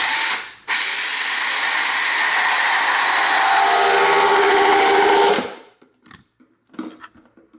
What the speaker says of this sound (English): then you turn your drill to the reverse, and then you drill.